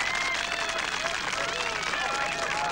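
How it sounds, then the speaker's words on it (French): Steady applause and cheering from a large crowd greet a politician at a campaign event in a French film. The clapping is dense and continuous, with faint voices and whistles rising through it. "Parce que j'adore qu'on m'applaudisse."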